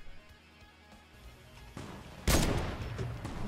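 Gunfire in a video game: quieter rumbling action at first, then a loud, sharp burst of shots about two-thirds through, followed by dense, continuing noise.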